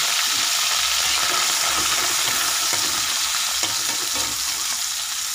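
White anchovies frying in hot oil for a sambal teri genjer, giving a steady, loud, dense sizzle and crackle throughout with no talking.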